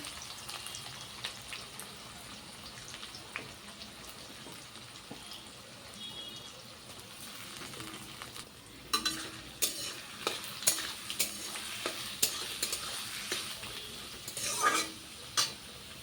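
Onions frying with garam masala in a pan, a soft low sizzle at first, then sharper scraping stirs and spatula knocks coming in irregular bursts toward the end, with no talking.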